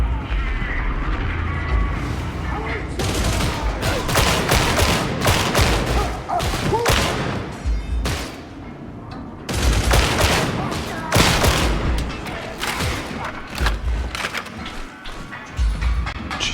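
Rapid, dense gunfire from a Veteran character in the video game Warhammer 40,000: Darktide rattles in continuous bursts and volleys, loud and close, with brief lulls around a few seconds in and voices faintly underneath.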